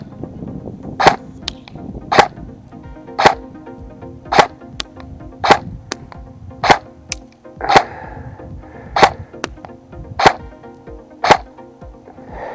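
A Double Eagle M904G airsoft rifle fires about a dozen sharp, close shots at a steady pace, roughly one per second, with some fainter clicks between them.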